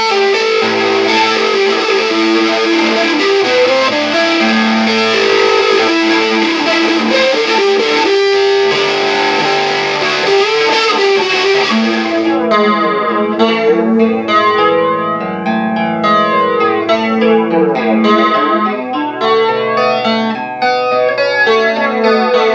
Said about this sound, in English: Depth all the way up there, it adds a weird kind of bounciness to that sound